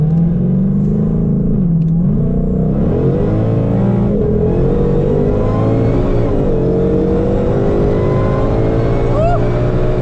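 An 840 whp supercharged Ford GT500 and an 870 whp C6 Corvette drag race. Their engines roar loudly and continuously, climbing in pitch as they accelerate, with a whining drone running through it.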